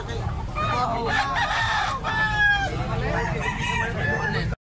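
A rooster for sale crows repeatedly at close range among other clucking chickens, with a few people talking in the background of a rural setting.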